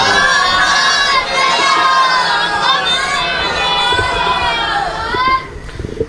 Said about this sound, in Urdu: دعا مندی قبولیت واسطے ایک صلوات باواز بلند تلاوت فرما۔